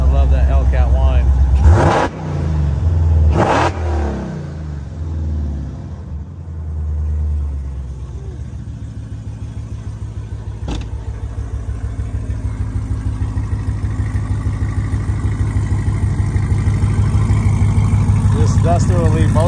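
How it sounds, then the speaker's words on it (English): Supercharged Hellcat engine in a 1972 Plymouth Duster restomod, running close by with a steady low rumble and a couple of sharp revs near the start, then settling into a continuous idle-like drone. "I love that Hellcat whine."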